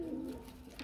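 Pigeons at a market stall selling birds give one soft, low coo that sits close and quiet over faint background noise.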